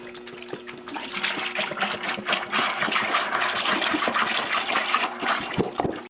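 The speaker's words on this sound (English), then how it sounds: "I'm gonna mix coolant and water in there, about a 50-50 mix" A 50-50 mix of coolant and water is poured steadily into a bucket, giving a continuous close splashing and gurgling stream that stops abruptly at the end.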